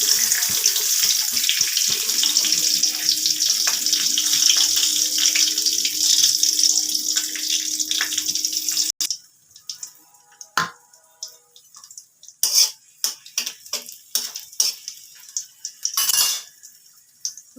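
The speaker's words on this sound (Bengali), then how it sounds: "কড়াতে তেল দিয়ে দিয়েছি, তেলটা গরম হয়ে গেছে। আমি এই কটা রসুন দিয়ে দিলাম।" Garlic cloves fry in hot oil in a kadai for an Assamese-style garlic rui fish curry. A loud, continuous hissing sizzle runs for several seconds, then stops and gives way to scattered metallic clinks and scrapes of utensils.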